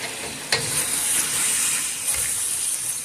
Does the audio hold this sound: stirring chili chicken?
yes